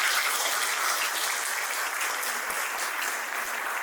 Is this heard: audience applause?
yes